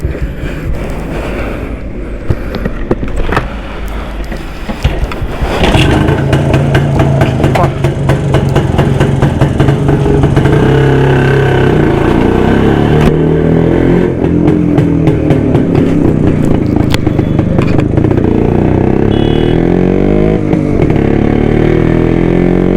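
Suzuki Shogun motorcycle engine running loud and close, a rough idle that rises into sustained revving, with some talk in the background.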